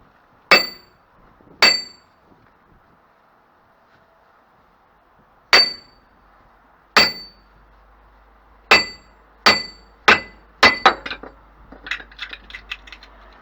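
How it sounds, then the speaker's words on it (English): A hammer strikes the wheel bearing hub of a Mini Countryman R60 in a series of sharp metallic clanks. They come as widely spaced single blows, then a quicker burst of lighter taps near the end. "if it doesn't like a rubber mallet, just a normal hammer"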